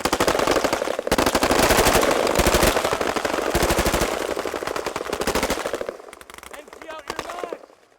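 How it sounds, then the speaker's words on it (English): Automatic weapons fire at an outdoor shooting range: a long stretch of loud, fast, overlapping bursts that thin out toward the end, followed by fainter voices. "They feel the feeling of the weapon, what they happen when you fire automatic."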